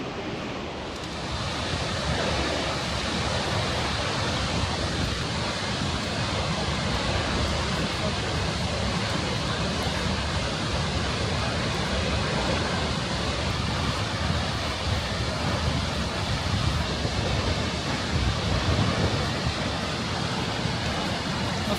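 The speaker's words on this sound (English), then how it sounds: "Right now I'm going to get very close to the waterfall and get a photo." An Icelandic waterfall roaring in a steady, dense wash of falling water, close and loud, with strong wind buffeting the microphone throughout and no talking.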